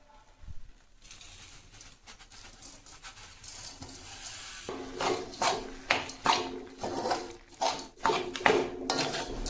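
Powdered jaggery, 400 grams of it, stirred into a raw mango mixture in a pot: quiet at first, then a string of close metallic spoon scrapes and clinks against the pan, growing louder and rhythmic.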